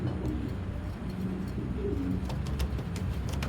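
Racing pigeons coo in low, rumbling murmurs that blend into a continuous loft hubbub, with scattered sharp clicks and flutters mixed through.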